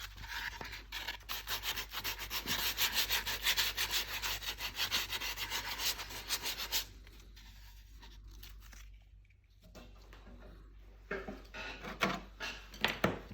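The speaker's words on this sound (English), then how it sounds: "I'm just going to give them a light sanding with, this is 150 grit paper" 150-grit sandpaper scrapes back and forth over wooden legs in quick, steady strokes, pauses briefly, then resumes with a few lighter rubs.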